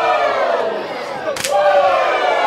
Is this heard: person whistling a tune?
no